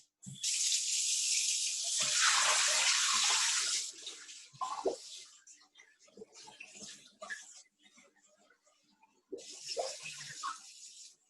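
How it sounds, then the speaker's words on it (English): Water runs from a tap into a sink in a steady close rush for a few seconds, then gives way to splashes and handling sounds before flowing again briefly. "So I'm going to take my water. And I'm going to clean my water. Get some water."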